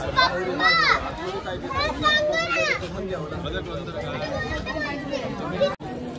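Crowd at the Chintamani Ganpati temple in Theur: a dense babble of voices with children's chatter and shouts, close and continuous, with people talking nearby throughout.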